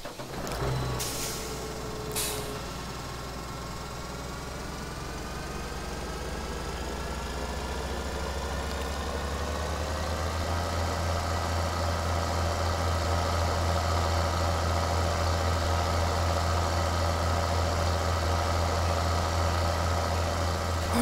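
Tractor engine in the video game Farming Simulator 2013, a steady low diesel drone that builds gradually and holds loud and close after a couple of brief clicks at the start; no talking.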